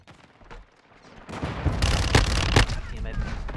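Rapid bursts of Vector SMG fire in the game Call of Duty MW2, fast crackling shots building from faint to loud with heavy impacts, while a person talks over the gunfire.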